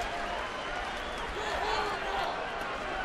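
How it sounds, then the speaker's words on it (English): Crowd at a San Diego baseball game applauds as manager Buddy Black leaves the field: a moderate, even spread of clapping and cheering fills the whole stretch, somewhat distant. "So Buddy Black will leave to a nice round of applause"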